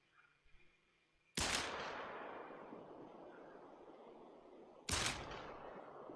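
Two sharp sidearm shots ring out in a first-person shooter, each a loud crack with a long, fading echo, spaced a few seconds apart and heard alone.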